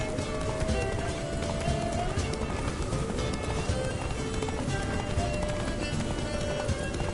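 Rapid, rhythmic hoofbeats of a galloping horse in a video game (The Witcher) pound on continuously over a steady background hum, with no one speaking.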